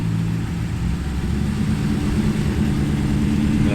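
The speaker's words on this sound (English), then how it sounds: "Let's just kind of ease into our throttle a little bit." A 2019 Ram Rebel truck's engine on a snowy off-road trail, in two-wheel drive with no locker, rumbles steadily and loudly at low throttle, with a smooth, constant drone and no talking.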